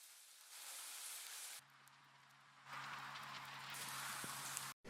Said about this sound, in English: it's just some samples of rain